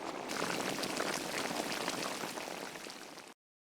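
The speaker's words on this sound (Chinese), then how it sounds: "加开水，没过羊肉，再来上点胡椒类，慢慢把羊肉给炖熟" Boiling water pours over mutton ribs in a pot for a Shaanbei-style braise, making a steady, full gush that runs about three seconds before cutting off abruptly.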